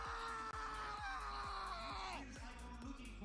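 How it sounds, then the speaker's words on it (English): Someone screaming for a scream challenge at a League of Legends esports playoff event, one long sustained loud shriek that wavers and bends in pitch, with a rhythmic thumping beat underneath. "Could we get a new scream now?"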